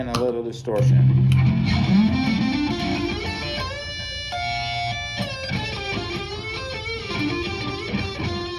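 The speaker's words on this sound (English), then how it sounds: "And a little distortion." Electric guitar run through an MXR distortion pedal stacked with drive and echo, a heavy distorted chord followed by sustained gritty single notes and bends, loud and close.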